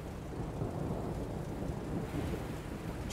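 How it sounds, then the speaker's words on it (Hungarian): A thunderstorm building in the tank game World of Tanks: steady rain hiss and low rumbling thunder roll on continuously, fairly quiet, with no talk. "olyan, mint hogy a vihar készülődne."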